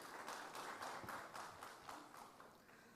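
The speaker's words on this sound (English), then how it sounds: "I would really like to join your hands for a clap for each other" Graduates of advanced management programmes at an ISB graduation ceremony clap for one another, a soft, steady wash of many hands with a slightly pulsing rhythm, distant and faint, no talk.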